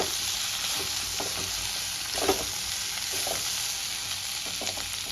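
Pieces of vegetables, including green papaya, potato and green banana, sizzle steadily in hot oil in a pan while being stirred for a shuchto dish, with soft scraping and stirring clicks throughout. There is no speech.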